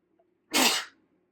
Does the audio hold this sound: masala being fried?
no